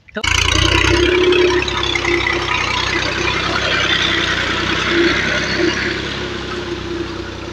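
A tractor engine on a village farm kicks in abruptly and then runs as a loud, steady, close rumble throughout, easing slightly toward the end.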